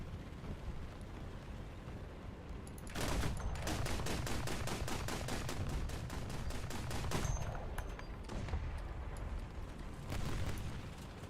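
A long volley of rapid gunfire in a video game rattles through a dense, rumbling background, a steady stream of evenly spaced shots lasting several seconds before tapering off, fairly faint overall.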